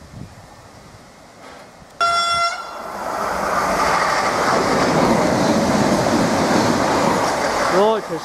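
A Class 755 train speeds through Needham Market station bound for Peterborough, sounding a short two-tone horn before a loud, sustained rush of wheels and rail noise that builds and holds close by.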